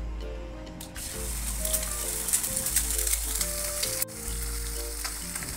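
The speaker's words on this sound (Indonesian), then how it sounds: "Kemudian kita bikin telur ceplok. Panaskan sedikit margarin. Pecahkan satu butir telur." An egg fries in melted margarine in a pan, giving a steady, close, loud crackling sizzle that runs nearly unbroken, with a brief dip partway through.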